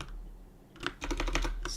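Quick typing on a computer keyboard while working on an AI chat app, a short burst of close, crisp key clicks after a brief quiet start, with no talk.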